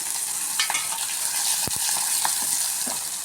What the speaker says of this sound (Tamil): கருவேப்பிலை, இஞ்சி, கொஞ்சமாக மல்லித்தழை ஆட் பண்ணி லைட்டாக வதக்கி விட்டுட்டு